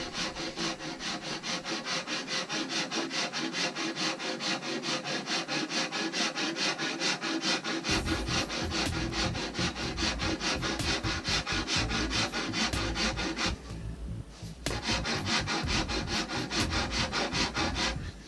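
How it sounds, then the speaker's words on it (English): Hand rasp filing a wooden longbow limb on either side of a raised knot, with continuous close, rhythmic scraping strokes of even loudness, a brief pause near the end, and no talking. "Going very gently with the rasp here, either side of this knot where we've left it proud."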